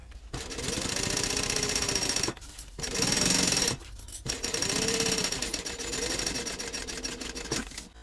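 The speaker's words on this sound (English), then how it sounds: "Now I'm going to top stitch across the top" A sewing machine running top stitching at a long stitch length, a close, rapid mechanical whirring and chattering in three bursts with short pauses between them.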